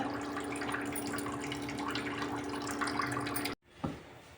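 Water pouring steadily into a container of Mappillai Samba rice set to soak, a continuous close splashing stream that cuts off abruptly near the end, followed by a brief clink.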